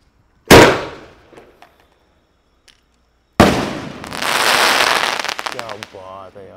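A Chidambaram 3-pic sky shot firework goes off in two loud events: a sharp launch bang with decaying crackle, then after a pause a second blast followed by sustained dense crackling and popping, with voices emerging at the end.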